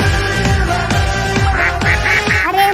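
A duck in the Free Fire battle royale game quacks loudly and repeatedly, about six nasal honking calls in quick succession over steady game background noise.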